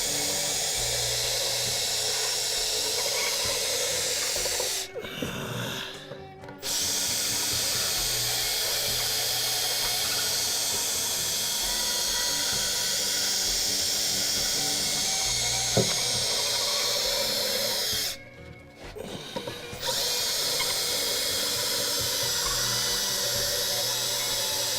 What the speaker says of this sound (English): And before you know it, you got a new sander.